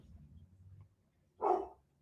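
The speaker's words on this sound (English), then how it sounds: "See, and now Harley barking." A single short dog bark rings out after a quiet stretch of low background hum.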